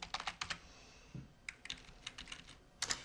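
Quick bursts of keystrokes on a computer keyboard as an author's name is typed into a library catalogue table, clustered clicks with short pauses between, close and alone.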